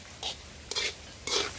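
A ladle stirs rice in a pan, three brief scraping swishes spaced evenly about half a second apart, faint against a quiet kitchen background.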